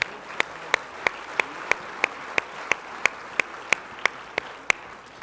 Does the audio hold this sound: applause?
yes